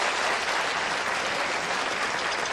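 A TV studio audience applauding during a late-night talk show, a dense, steady wash of clapping that holds at full strength throughout with no voices on top.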